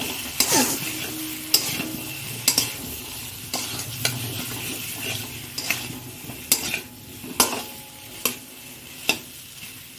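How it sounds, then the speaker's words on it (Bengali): Potatoes being sautéed in a pan for an egg curry: a soft background sizzle under sharp, repeated clacks of a utensil striking and scraping the pan, close by and irregularly spaced. "আলুটা দিয়ে একটু কষিয়ে নেবে।"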